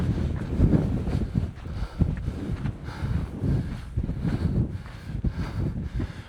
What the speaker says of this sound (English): It's windy and cold out here today.